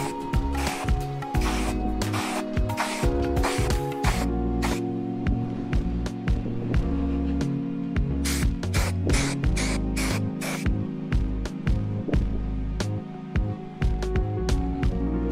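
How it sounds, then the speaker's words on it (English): Oil sprayed onto a K&N air filter from a BMW M140i, a series of close hissing aerosol bursts, some long and some short, with brief gaps between them and no talk. "So now it's time to oil the air filter."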